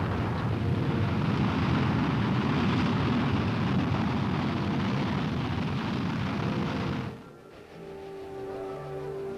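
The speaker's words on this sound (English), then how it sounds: "the Army's deadly corporal missile is launched to seek out and destroy the enemy's missile" A loud, sustained roaring blast of broadband rumble from a Corporal missile launch for about seven seconds, then it abruptly cuts off, leaving a quieter hum with faint tonal sounds.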